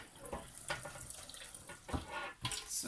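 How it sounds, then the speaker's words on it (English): Tap water runs into a sink while rice is rinsed by hand, giving a continuous close splashing hiss with soft swishes and a few louder surges, no talking. "I'm washing it. I'm washing my rice."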